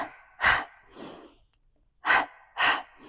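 Several loud, breathy exhalations during a Pilates exercise, coming in close, forceful bursts with short pauses between them, and a softer breath partway through.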